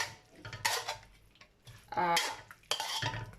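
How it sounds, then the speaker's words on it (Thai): Minced pork is stir-fried in a pan with champignon mushrooms, spinach and holy basil. A spatula scrapes and clanks against the pan in a few quick bursts, close and loud, over a low sizzle. "ผัดหมูสับ"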